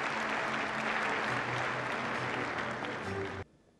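Audience applause at a live televised stage event in Turkey as two brothers are invited onstage, a dense sustained wash of clapping at steady loudness that cuts off abruptly near the end.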